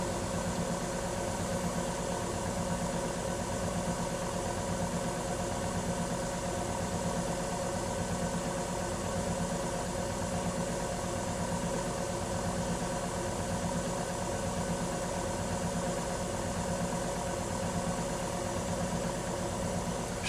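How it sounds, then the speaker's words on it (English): Electric motor with Hall effect feedback sensors running on a test bench, giving a steady, even hum with a regular low pulsing throb that stays constant throughout. "Slow the motor down."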